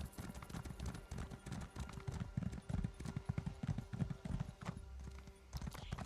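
Rapid rhythmic clip-clop of a horse galloping in a fantasy video game, hoofbeats pounding continuously and fairly close, with a few clanks and game effects in the mix.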